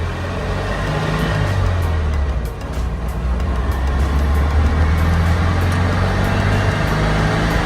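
A 1957 VW Oval Window Ragtop drives along with a loud, steady air-cooled engine drone and road rumble that rises slightly as it gets under way, heard from inside the car.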